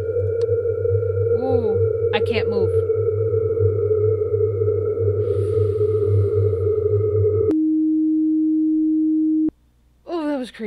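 A distortion effect in the horror game I'm on Observation Duty 4 drones loudly and steadily for most of the stretch, then shifts abruptly to a single sustained tone before cutting out, with brief spoken remarks over it.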